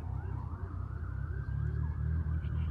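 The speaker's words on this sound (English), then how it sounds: "A car was honking at a fire truck." A fire engine's siren wails steadily in a sweeping tone over a loud, low rumble of traffic, with no distinct horn blast standing out.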